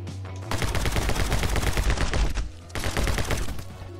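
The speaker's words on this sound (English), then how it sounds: "Let me go back to the Uzis, reload these." Rapid Uzi fire in the My Friend Pedro video game, a dense sustained rattle of shots for about two seconds, a short pause, then a second steady burst, loud and close.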